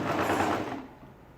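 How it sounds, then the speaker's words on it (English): A sewing machine stitching a half-inch seam on a ladies' shirt dress whirs briefly up close, then stops and leaves faint room noise. "So still sewing at"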